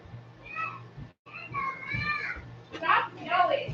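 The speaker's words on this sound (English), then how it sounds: "I hear them kids yelling." Children yell and shout nearby in bursts, high voices rising and falling across a few seconds with a brief gap, fairly loud and close.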